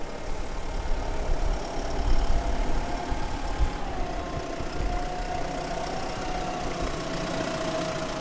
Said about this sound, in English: So we're just dropping the wood in the trailer with the front end loader